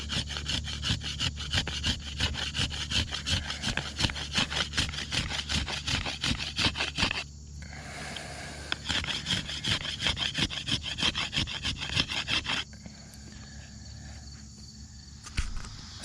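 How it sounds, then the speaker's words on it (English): A black locust arrow shaft is scraped back and forth across a large stone in steady, close rasping strokes, pausing briefly twice before the rubbing resumes. "So I finished planing it on this large stone that I had been using."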